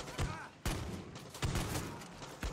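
Bursts of gunfire in the Far Cry 6 video game, several loud, sharp volleys spaced about a second apart, close and forceful over a dense, noisy battle background.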